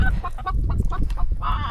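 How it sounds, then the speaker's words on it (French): A hen clucks in quick, close bursts, a loud series of short clucks with a longer cackle at the end, recorded outdoors on a trek in Santo Antão, Cape Verde. "Brigitte la poule."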